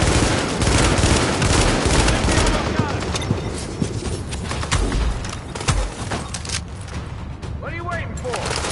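Sustained gunfire bursts in the Tom Clancy's The Division video game, dense and continuous across the whole stretch, with voices talking over the shooting.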